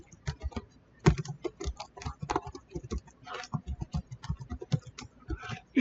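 Rapid, irregular clicking of keys as code is typed on a computer keyboard, close and clear, with bursts of quick strokes and brief pauses, and no talking.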